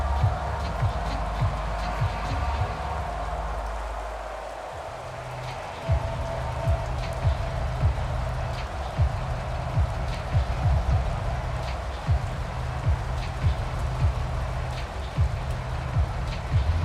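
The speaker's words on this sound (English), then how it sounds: "The rain set to continue as we are underway in the second half." Rain falls on the field during a Madden NFL game between the Kansas City Chiefs and Buffalo Bills, a steady hiss of drops under a low rumble, with play-by-play commentary talking over it throughout.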